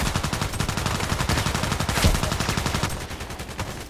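An OTs-33 Pernach automatic pistol firing in the shooter game Contract Wars, a loud, rapid, unbroken burst of evenly spaced shots that rattles on for several seconds and eases slightly toward the end.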